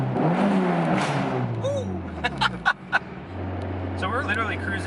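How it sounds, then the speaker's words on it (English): A modified 2005 Dodge Neon ACR with a 550+ hp engine and five-speed transmission hums steadily while cruising in third gear at about 40 mph, a low drone inside the car, with people talking over it. "So we're literally cruising at 40 miles an hour in 3rd gear right now."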